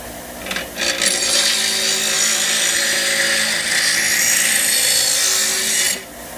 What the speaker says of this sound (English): Fire up the grinder.